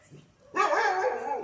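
A litter of seven street-dog puppies yelps and whimpers close by, a faint stir giving way to a sudden burst of overlapping high cries that carries on steadily to the end.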